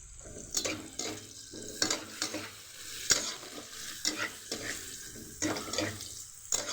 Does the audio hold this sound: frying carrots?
yes